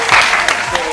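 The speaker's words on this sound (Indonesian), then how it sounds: "tepuk tangan dulu" A crowd applauds after a pledge recitation at a youth gathering, a brief dense burst of clapping heard up close.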